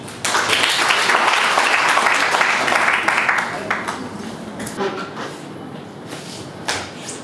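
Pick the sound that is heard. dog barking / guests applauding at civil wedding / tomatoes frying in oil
guests applauding at civil wedding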